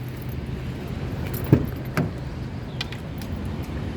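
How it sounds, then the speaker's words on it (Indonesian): Keys jingle and a couple of sharp clicks sound as a 2005 Toyota Kijang Innova 2.0 V automatic is unlocked by remote and its door opened, with soft background hum and no talk. "Sekarang kita coba buka mobil ya."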